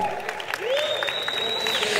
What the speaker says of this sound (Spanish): les pido un fuerte aplauso para arroba plaqueta